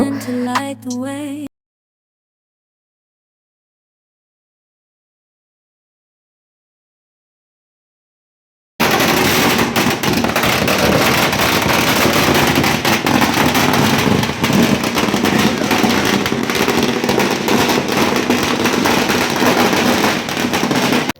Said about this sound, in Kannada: ನಮ್ಮ ಆಂಟಿ ಮಗ ಪಟಾಕಿ ಎಲ್ಲ ತೊಗೊಂಡು ಬಂದಿದ್ದ ಹಚ್ಚಿದ್ದ ಕೂಡ